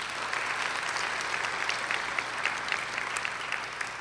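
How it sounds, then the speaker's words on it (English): An audience at a college honors ceremony applauds colleagues being introduced, a dense, continuous patter of many hands heard from a slight distance, even and sustained throughout. "A round of applause for these colleagues, please"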